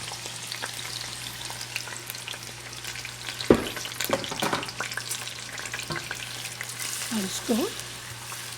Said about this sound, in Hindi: और अब मैं इसके अंदर कद्दूकश की हुई लौकी डाल दूँगी